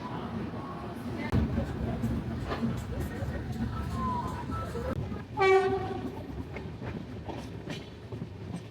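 A passenger train on the Chennai to Srikakulam route rolls along the rails with a steady rumble and clatter, and a loud horn blast sounds midway while someone talks over it.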